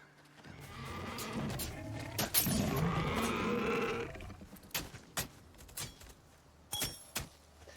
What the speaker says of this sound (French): Ah, cochon!